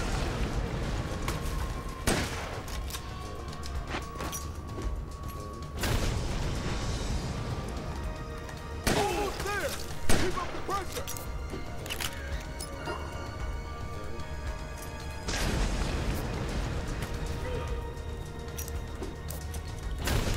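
A grenade explodes in Dead Rising Deluxe Remaster during a chaotic mall fight, one of several loud booms and crashes that stand out over continuous game noise.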